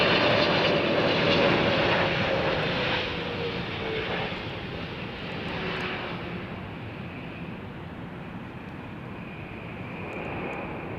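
A Korean Air Boeing 777 in new livery arrives on 09L at Heathrow, its engine roar and whine passing fairly close, loudest early then gradually fading, with no talk over it.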